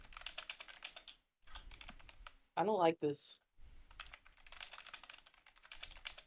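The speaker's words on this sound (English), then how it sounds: "I'm typing it to you right now." Rapid keyboard typing clicks in bursts, briefly interrupted by a short spoken remark, then the typing resumes close and clear.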